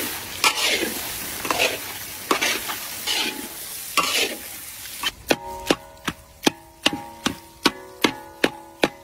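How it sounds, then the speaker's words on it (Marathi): Masala frying in a pan with turmeric and Kashmiri red chili powder: soft sizzling and stirring scrapes at first, then a run of sharp, evenly spaced metallic taps, about a dozen knocks of a spoon against the pan rim. "हळद टाकून घेऊ, काश्मीरी लाल मिर्च पावडर परतून घेऊ।"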